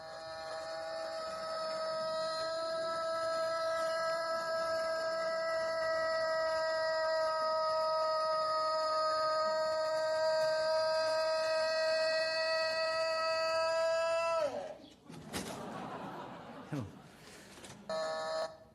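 A rooster crows in one long, sustained, harmonic-rich call lasting about fourteen seconds before breaking off, followed by brief noisy bursts, heard as playback from a video.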